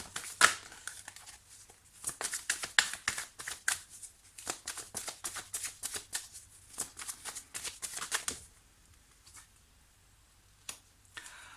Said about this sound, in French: je vais sortir 2 cartes pour la finalité